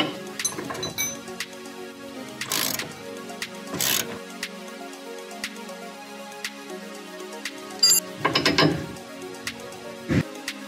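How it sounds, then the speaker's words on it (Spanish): Metallic clinks and short ratcheting bursts from a ratchet and 5/8 socket loosening a control arm bolt on a VW Jetta A4, coming in scattered close bursts with quiet gaps between. "Con una llave de 5 octavos, una matraca y un dado de 5 octavos,"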